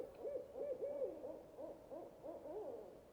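An owl swooping from its nest gives a run of soft, repeated hoots, evenly spaced across a quiet night background.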